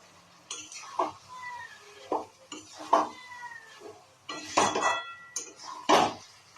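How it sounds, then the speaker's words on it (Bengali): Muri ghonto is stirred in a pot, with repeated bursts of spoon scraping and metallic clinks, some squealing tonally against the pot, separated by short quiet gaps. "এবার খুব ভালো করে এটা নাড়াচাড়া করে দেবো আমি"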